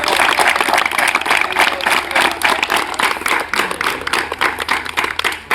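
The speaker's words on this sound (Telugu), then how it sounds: "ఇస్తున్న మంత్రి గారికి ఒకసారి చప్పట్లతో మీరు" A school crowd claps for a government minister at the launch of a student meal programme. The applause is dense and steady for several seconds, with scattered louder claps toward the end.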